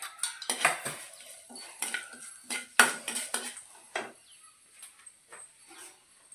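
Cumin and mustard seeds fry in hot oil in a pan, giving a string of close, uneven crackles and pops, with stirring clinks and scrapes between them that thin out toward the end.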